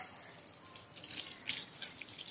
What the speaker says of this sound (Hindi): पौधों को पानी डाल रही हूँ